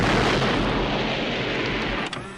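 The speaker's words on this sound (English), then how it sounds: "You weren't ready for this explosion." A huge fiery explosion from the 1982 film The Thing, a loud sustained roaring blast with deep rumble that fills the whole stretch, fading slightly before a sharp crackle near the end.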